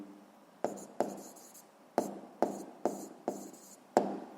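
Someone writes down a physics answer by hand: seven crisp, separate scratchy strokes spaced unevenly, each starting with a sharp attack and trailing off, heard close up in an otherwise quiet room.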